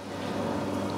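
An Ariston LS 603 dishwasher, loaded with washing powder, runs with a steady, close, moderately loud whirring drone that holds without a break through the whole second, with no voices.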